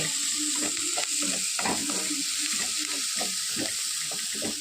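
Onions frying in oil for chicken sukka, a continuous close hiss of sizzling with rhythmic scraping strokes of stirring throughout.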